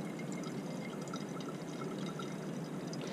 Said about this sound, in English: we're going to run now the organic layer into another conical flask